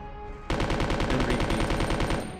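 A loud rapid burst of gunfire in the survival-horror game Resident Evil 2, starting abruptly and continuing as a steady stream of shots for about two seconds.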